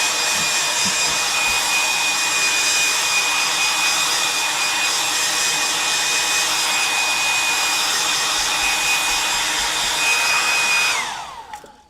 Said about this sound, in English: I'm going to get my hairdryer out now and give this a blast.